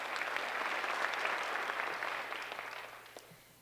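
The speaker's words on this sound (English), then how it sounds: "Let's give her a round of applause." Audience applause at a high school senior awards ceremony, a steady roomful of clapping that holds for a few seconds and then slowly fades out, with no voices over it.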